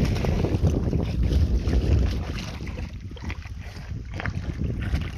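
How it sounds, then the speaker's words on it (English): Heavy wind buffets an unprotected microphone outdoors, a loud continuous low rumble with gusty surges that runs the whole time and eases slightly midway before building again, with no talking. "You should have brought the microphone muff, it's kind of windy."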